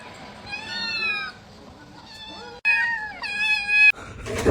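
A house cat meows repeatedly close by, several separate rising and falling cries with short pauses between them and a louder burst near the end.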